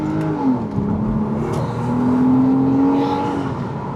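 A car with an automatic gearbox accelerates while driving, engine note rising steadily and growing louder, a continuous close-up drone heard from inside with no talking.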